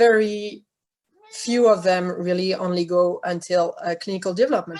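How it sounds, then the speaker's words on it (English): A cat meows loudly and close at the start, a drawn-out harmonic cry, then someone speaks steadily over the rest, with possible further faint meowing mixed under his voice. "Sorry for the cat."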